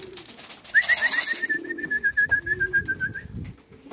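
Young racing pigeons coo at close range in a short soft burst, with a thin whistling tone running under the throaty calls.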